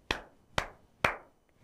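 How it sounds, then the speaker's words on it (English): Three sharp, separate hand claps by a teacher in a classroom lesson, evenly spaced about half a second apart, close and crisp in an otherwise quiet room. "Clapping"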